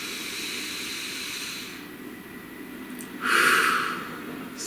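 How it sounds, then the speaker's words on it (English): A slow, deep breath drawn in and let out, soft airy hissing heard alone in a quiet room, with the breath swelling briefly louder near the end. "Please take a nice deep breath."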